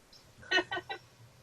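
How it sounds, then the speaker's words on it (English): Chickens give three short, close clucks in quick succession, the loudest first, over a quiet background with no talk. "It's haunted with chickens."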